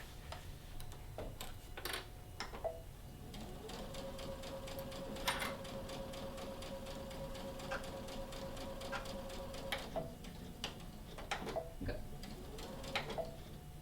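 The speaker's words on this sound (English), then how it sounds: "now we can bring this over to our sewing machine" A sewing machine whirs in a steady run with a faint whine, boxing out the bottoms of a fabric bag, surrounded by scattered sharp clicks and taps, quiet and close.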